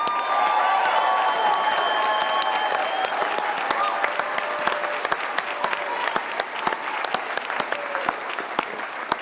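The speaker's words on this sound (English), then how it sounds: "can you do me a favor and give him a round of applause?" Conference audience at CPAC applauding, a dense sustained round of clapping with scattered sharp individual claps and light cheering, continuing for several seconds as a voice talks faintly underneath.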